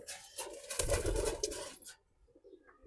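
A pet pigeon coos close by in a short, throaty burst lasting about two seconds, followed by near quiet.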